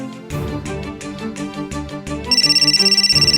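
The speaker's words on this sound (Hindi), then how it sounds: "पुलिस को नहीं, तेरे रोहन को कल लगा रहा हूं।" A mobile phone ringtone in a Hindi crime drama episode cuts in partway through, ringing in loud, rapid repeating pulses after a stretch of background music.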